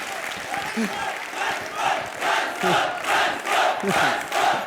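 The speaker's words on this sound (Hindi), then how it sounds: "वाह, रॉकी हैंडसम के लिए जोरदार तालियां हो जाए।" Studio audience applause on a Hindi comedy show set, rising and falling in waves of clapping and cheering, with a voice calling out intermittently over it.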